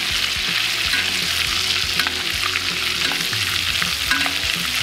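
Steak sizzles steadily on a hot grill while being basted with rosemary, a loud, continuous frying crackle with small pops and stirring scrapes, no talking.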